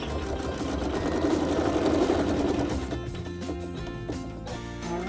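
A sewing machine stitches fabric down with a steady, continuous whirring hum that runs nonstop at close range and shifts slightly in pitch partway through.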